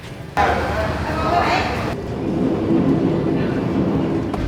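A train from Hue to Da Nang, Vietnam, rumbles along steadily, a constant low mechanical roar with rattling carriages, loud and close throughout.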